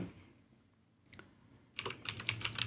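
Typing a name on a computer keyboard while working in InDesign: after a quiet pause and a single isolated click, a rapid run of crisp, close keystrokes takes over the last second.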